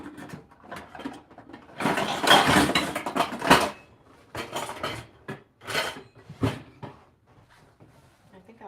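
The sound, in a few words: getting out a frying pan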